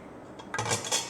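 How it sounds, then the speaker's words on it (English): Glass jars are set into a cooking pot, making two quick clinks of glass against metal, close and fairly loud. "So I'm just gonna pop all of my jars"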